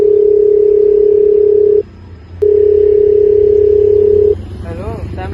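A loud, steady telephone dial tone sounds for nearly two seconds, breaks off briefly, then returns for about two more seconds before faint background sound takes over.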